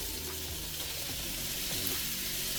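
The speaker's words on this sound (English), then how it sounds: "And this I'm just going to combine together and also saute for like a minute or two." Onions and tomatoes sautéing with garlic for Jamaican steam fish, a dense continuous sizzle close up with faint stirring, no voices.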